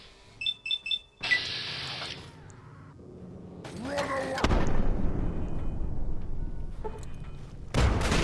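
Frag grenades explode in Fallout 3. Quick electronic beeps and game tones lead into a loud, rumbling blast, followed by a second sharp boom near the end.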